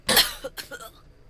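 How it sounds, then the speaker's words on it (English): A single close, short cough with a throaty burst followed by a couple of softer trailing hacks, heard alone. "See, I feel like that's a fake cough."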